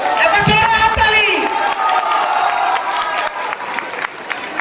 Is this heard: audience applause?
yes